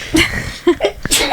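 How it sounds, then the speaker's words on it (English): A sneeze during a podcast recording, loud and close, mixed with brief vocal sounds and breathy bursts in a busy, cluttered stretch. "that was my first time sneezing on the pod"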